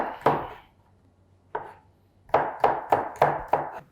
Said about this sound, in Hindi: प्याज के साथ जिंजर भी काट लेंगे